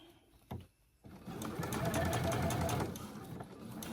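A sewing machine stitching an infinity scarf runs in a fast, steady mechanical whir for a couple of seconds after a brief knock, then slows and stops.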